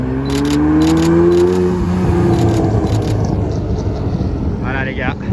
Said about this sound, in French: McLaren F1 en car spotting sur Paris, c'est une première pour moi